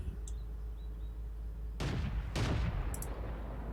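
Artillery fire in the World of Tanks tank battle game, two heavy booming shots in quick succession with a rumbling tail, loud and close over a low steady engine drone.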